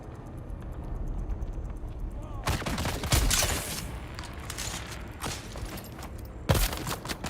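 Rapid gunfire in the video game Dune Awakening, two sharp bursts of shots over a busy game background, with a voice speaking at times.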